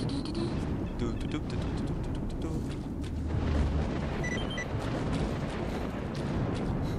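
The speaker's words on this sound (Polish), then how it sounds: "O kurwa, wybuchy radioaktywne." Radioactive explosions in the video game STALKER rumble as a continuous loud, low roar with bursts throughout, mixed under background noise and game sound.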